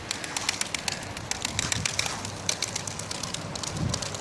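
Young pigeons flutter and shuffle with soft wing claps and faint cooing, a busy, rustling coop ambience at moderate volume.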